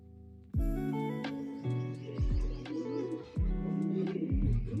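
A racing pigeon hen coos close by in a repeated series of deep, throaty rolling coos, each swelling and falling, with no talk over them.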